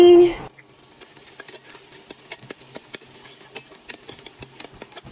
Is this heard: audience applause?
no